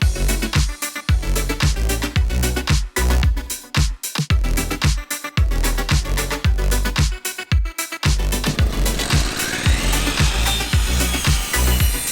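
A power tool drives screws into a wooden beam during rafter and ridge beam framing at an off-grid build, giving repeated loud whirring bursts with short pauses, then a longer grinding, scraping stretch near the end.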